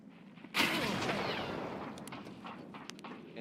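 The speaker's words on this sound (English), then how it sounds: "Grenade, get out of there." A grenade detonates in Escape From Tarkov: one sudden heavy blast that rolls into a long rumbling, debris-filled decay lasting several seconds, with a few faint clicks trailing at the end.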